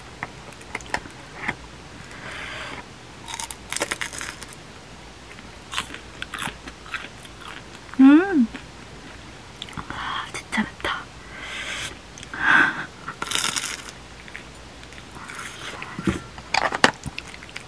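Someone eats fried yaki mandu dumplings close to the microphone, with crisp bites and wet chewing spread across the clip, punctuated by breathy whispered murmurs.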